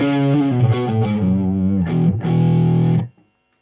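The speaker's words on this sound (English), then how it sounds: "This one here is based on a Noble's ODR1, it's like a distortion." Electric guitar played through a distortion pedal modeled on the Nobels ODR-1, a thick, saturated chord phrase ringing out, then a sustained chord that cuts off abruptly into silence.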